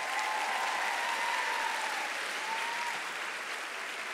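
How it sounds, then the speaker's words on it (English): Steady, sustained applause from an audience at a school honors recognition ceremony, a dense even wash of clapping heard from a distance with no other sounds. "can we have another round of applause for Kate from Marshall High School?"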